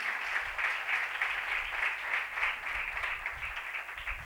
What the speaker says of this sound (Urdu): میں چاہتا ہوں کہ زوردار تالیاں بجائی جائیں ان کے لیے